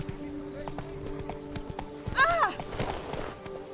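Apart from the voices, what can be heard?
Roach the horse galloping hooves in video game The Witcher 3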